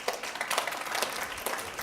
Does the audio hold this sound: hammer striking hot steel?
no